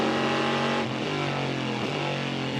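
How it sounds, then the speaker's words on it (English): Ferrari and Corvette GT race cars at Spa, one overtaking the other, engines roaring loud and steady with pitch shifts as they shift gears and pass, no talk over the engine noise. "And the Ferrari getting past the Corvette"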